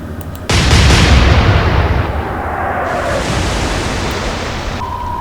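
Warship guns firing a salvo in the Atlantic Fleet naval combat game, one loud, sudden blast that rolls into a long, rumbling roar, followed by a fading whistle of shells in flight.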